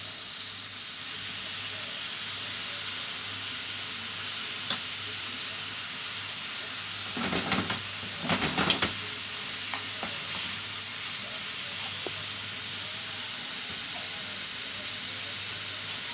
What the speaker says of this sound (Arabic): حطينا اللحمه زي ما انا قلت لكم، نعصجها شويه كده